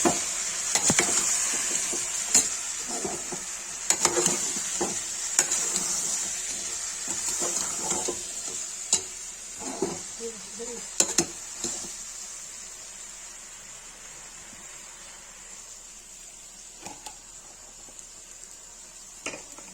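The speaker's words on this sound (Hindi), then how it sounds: "देखिए गाय न्यूट्री आलू भून रहा है।" Nutri soya chunks and potatoes fry in oil in a home kitchen, giving a steady quiet sizzle broken by scattered clacks and scrapes of stirring that thin out toward the end.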